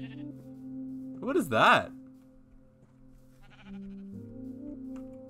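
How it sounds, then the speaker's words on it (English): Minecraft sheep bleating twice in quick succession, a wavering mid-pitched baa, heard over steady game music with a person speaking briefly afterward. "Hey, sheep."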